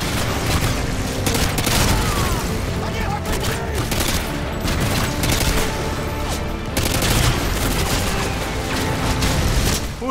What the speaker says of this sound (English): Who is that shooting him?